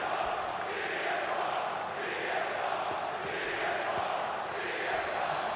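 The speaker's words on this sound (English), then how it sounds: "Crowd is chanting CM Punk." Video game wrestling crowd in WWE 2K25 chanting CM Punk's name, a steady rhythmic swell of many voices rising and falling in waves, moderately loud and continuous across the arena.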